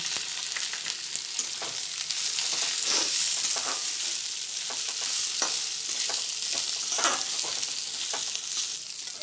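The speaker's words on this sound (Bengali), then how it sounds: "গোবিন্দভোগ চাল নাড়াচাড়া করতে দেব বাদাম, কাঁচা বাদাম" Gobindobhog rice and raw peanuts being stirred in a frying pan, a steady loud sizzle broken by repeated scraping strokes of the spoon, with no talking.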